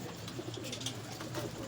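Pigeons coo softly in a loft, a low murmuring burble that repeats in short phrases against faint background noise.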